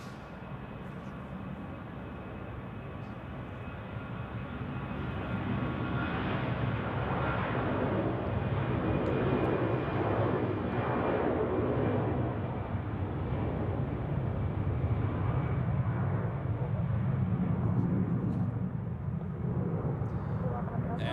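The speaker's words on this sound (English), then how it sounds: "And next for departure is Brussels Airlines." A Brussels Airlines jet departs from Zurich Airport on a crosswind day, a broad rumbling roar swelling and sustaining at a distance, with someone talking over it.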